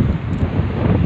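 Strong wind on Al Reem Island buffets the microphone with a steady, loud, close rumble, with no talk heard.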